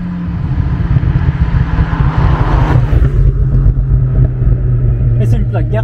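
A Ferrari pulls up at an outdoor foodservice event in Sint-Pieters-Leeuw, its loud, deep engine rumble droning steadily close by while people talk over it.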